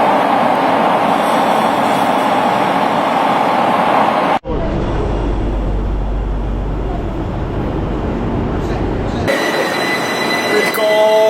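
Metro or tram ride in Algiers: a steady rolling rumble from inside the carriage, then an abrupt cut to a deeper low drone with squealing, and a final section with brighter rail noise and tonal whines.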